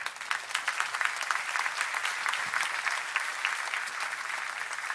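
A church congregation claps together at a worship service, a dense, steady burst of many hands that holds at an even level throughout, with no voices standing out.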